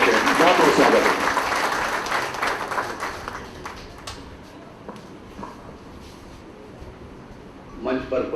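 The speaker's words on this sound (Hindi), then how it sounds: "एक बार जोरदार तालियों से सर का स्वागत है" A crowd at a Delhi University event welcomes the chief guest with a strong burst of clapping that quickly thins out and fades, leaving scattered claps, faint room noise and some talk.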